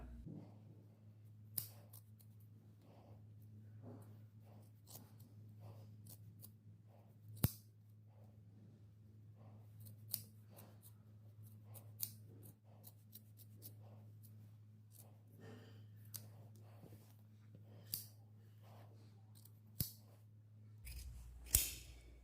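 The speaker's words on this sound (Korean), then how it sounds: "그래서 이 부분 피해서 가위밥 줍니다." Scissors snip notches into the seam allowance of a trench-style half coat, a series of sharp, evenly spaced clicks over a steady low hum, close and fairly quiet with no talking.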